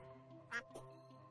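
A duck quacking in the video game Terraria, two short nasal quacks in quick succession, faint over a quiet music and ambience bed.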